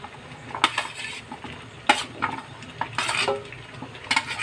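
Shrimp chop suey with carrots is stirred in a pot, giving scraping and clinking utensil strokes at irregular intervals over a faint sizzle, close up with no talking.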